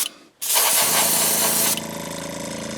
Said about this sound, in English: I'm going to spray on the bill